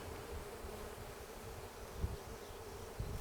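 Honey bees buzz continuously on the comb inside an open hive, a close, even drone with a couple of soft knocks, no talking.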